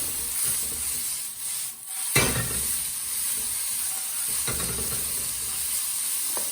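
Pork and shrimp stir-fried in a hot pan for Singapore noodles give off a steady, fairly quiet hiss, with a few scraping stirs and brief sizzling surges as the meat is tossed.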